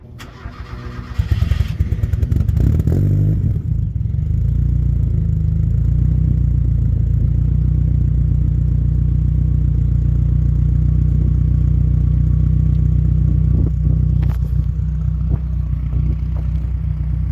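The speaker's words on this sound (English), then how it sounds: "this is a turbocharged, unequal length header Miata. So it makes cool Subaru noises" Turbocharged Miata engine with unequal length headers barks to life, then settles into a loud, steady, uneven Subaru-like burbling idle that holds close up for the rest of the stretch.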